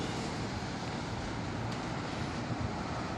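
A sandstorm in Dubai under cloudy skies blows hard against the microphone, a dense, unbroken roar of wind lasting the whole stretch with no voices.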